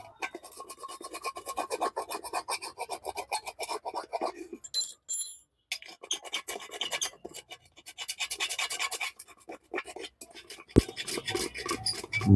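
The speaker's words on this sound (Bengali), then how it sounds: "এবার আমি এই জায়গাটা একটু ঘষে পরিষ্কার করে নেব" Scraping and rasping against the cut metal spot on a pressure cooker body as it is rubbed clean, with repeated strokes coming in bursts, close and fairly quiet, and a few brief pauses between.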